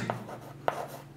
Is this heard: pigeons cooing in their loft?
no